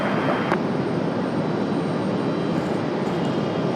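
A jet airliner arriving at Raleigh-Durham International Airport makes a steady, loud engine roar that holds with no break the whole time, with no voices over it.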